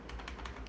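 Soft, quick keystrokes on a computer keyboard, a handful of faint clicks in a short burst during a programming debugging session.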